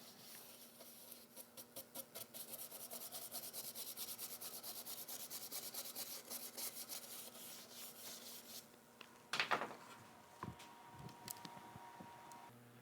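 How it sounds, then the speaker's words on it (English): A cheap paintbrush with bristles cut down for stiffness sweeps wood chips off a CNC-carved wooden flag, giving a steady run of close, rapid rubbing strokes, followed by a brief louder burst and scattered knocks. "a cheap paintbrush with the bristles cut down to give it a little bit more rigidity comes right through there and brushes those off"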